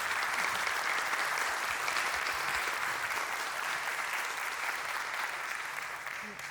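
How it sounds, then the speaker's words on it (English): Audience at a panel discussion on art and self-discovery gives a sustained round of applause, dense, even clapping from a room full of people that tapers slightly toward the end. "Can we have a big round of applause for our panel?"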